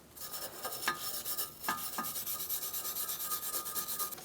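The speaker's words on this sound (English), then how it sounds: "You're going to want to clean your knuckle with a wire brush." A wire brush scrubs a Ford Focus front steering knuckle in quick, rhythmic back-and-forth strokes, close and moderately quiet, with a few sharper scraping accents early on and no talking.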